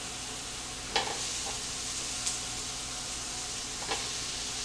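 Smoked sausage browning with onions in a pan, a continuous even sizzle and hiss with a few soft utensil clicks, heard alone without talk.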